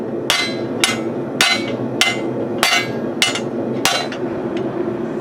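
A hammer strikes a steel bar being forged into a tenon for a fork, six loud, ringing blows at a steady, unhurried pace with brief decays between them.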